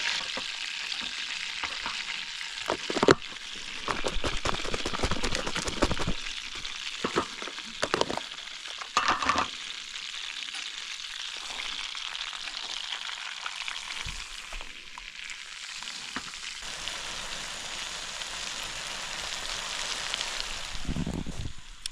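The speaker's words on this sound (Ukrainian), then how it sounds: "сьогодні спробуємо піджарити рибку саме на вершковому маслі" Crucian carp frying in butter, a long steady crackling sizzle with bursts of louder spitting and occasional utensil knocks, close by and without talking throughout.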